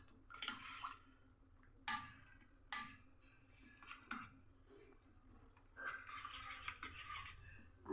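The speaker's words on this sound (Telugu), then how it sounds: "కొద్దిగా కొత్తిమీర వేస్తున్నాను, సన్నగా తరిపెట్టుకుని కలుపుకోవాలంతా." Chopped coriander stirred into a buttermilk stew (majjiga pulusu), with a few faint scraping and clinking strokes of a spoon in the pot against a quiet background.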